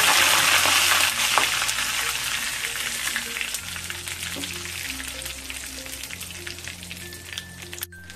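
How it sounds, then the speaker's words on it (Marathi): Green chillies and curry leaves sizzle loudly and steadily in hot oil with mustard seeds and cumin, a close, dense crackle of a tempering for raw mango dal, with scattered small pops and no talking. "आणि ह्या मिरच्या घालू."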